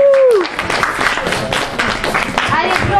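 Audience applause and clapping from a crowd, brief and fairly loud, following a voice at the start and mixed with cheering and talk.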